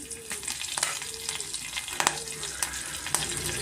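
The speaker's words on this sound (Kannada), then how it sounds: "ಜೀರಿಗೆ ಸ್ವಲ್ಪ ಎಣ್ಣೆನಲ್ಲಿ ಸ್ವಲ್ಪ ಫ್ರೈ ಆದ ತಕ್ಷಣ ನಾನು ಸ್ವಲ್ಪ ಕರ್ಬೇವು ಯೂಸ್ ಮಾಡ್ತಾ ಇದ್ದೀನಿ" Cumin seeds and curry leaves fry in hot oil with a lively crackling sizzle, broken by close scraping stirs and a few sharp pops.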